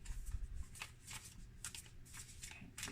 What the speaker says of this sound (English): I'm going to shuffle this way. And then I'm going to split the deck and pick one.